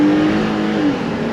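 A 2022 Jeep Gladiator Rubicon accelerates, a steady loud engine drone with road and wind noise from inside the cab, no talking.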